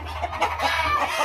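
A chicken clucks in short, uneven bursts over a low steady hum, fairly close with no talking.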